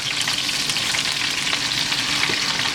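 A sous vide ribeye steak sears in a hot pan with a steady, dense sizzle and frying crackle that stays loud and even throughout, with no talking over it.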